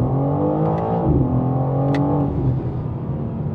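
A 2022 BMW M4 Competition xDrive pulls hard at full throttle, its engine note rising steadily and loud, with a brief upshift in the middle, heard from inside the car.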